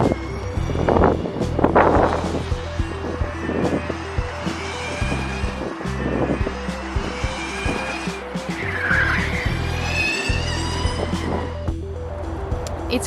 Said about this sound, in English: we got the car ready and now it's already doing laps at the track